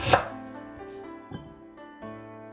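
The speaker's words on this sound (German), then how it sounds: "Lauchzwiebeln in Scheiben schneiden. Ingwer ebenso." Knife chopping spring onions and ginger on a cutting board, a sharp initial chop followed by a few spaced cuts with ringing, resonant board tones, close and clear, no talk.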